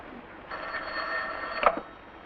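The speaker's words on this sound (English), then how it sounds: "Answer that phone." A telephone bell rings in a 1941 film noir, one short ring burst of about a second over a quiet room tone, with no talk.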